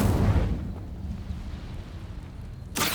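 An Incendio fire spell cast in the Hogwarts Legacy video game: a rumbling fiery burst opens, fades into a low steady roar, then a second sharp blast erupts near the end. No voices.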